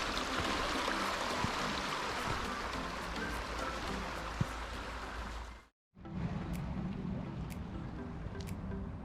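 The Inn river flowing in winter in Tyrol, a steady broadband rush of moving water heard close and unbroken, with a brief cut partway through and no talk.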